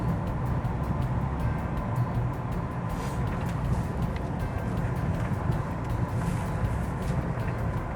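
A 1968 Ford Fairlane's engine idles with the choke partly pulled out, a low, even rumble running steadily throughout at moderate volume.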